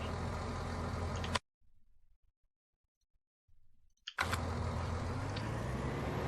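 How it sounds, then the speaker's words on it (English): A loud tractor engine in the Farming Simulator 19 video game drones steadily and close, cuts out for a few seconds with only faint clicks, then roars back at full volume. "Downside is this tractor is a bit on the loud side."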